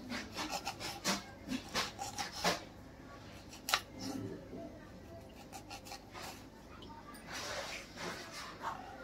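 Knife chopping capsicum finely on a board, a run of quick, sharp cuts in uneven bursts, with low talk heard faintly underneath.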